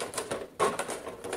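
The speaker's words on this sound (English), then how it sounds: "Sorry about the noise. It's part of, cutting a milk jug" Scissors or a blade cutting through a plastic milk jug, producing close, scratchy crunching and snipping in quick irregular bursts with one sharper crackle midway, no voices.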